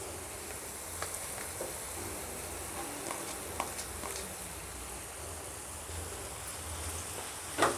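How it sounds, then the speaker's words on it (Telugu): Grated raw mango frying in a pan for mamidikaya chitranam, giving a soft, steady sizzle with faint occasional stirring clicks, close and quiet, with no voices. "ఇది ఒక 2 to 3 minutes మనము బాగా ఫ్రై చేసుకోవాలి."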